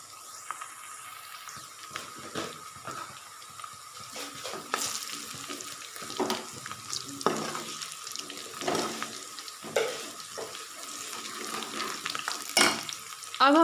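Meat for Deghi-style palak gosht browns in a pan with a steady, fairly quiet sizzle, broken by scraping stirs and clinks of the utensil.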